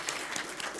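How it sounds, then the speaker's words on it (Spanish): Audience at a roundtable panel on audiovisual editing applauding the speakers, a brief, moderately faint patter of clapping from a small crowd. "un aplauso para los expositores antes de empezar"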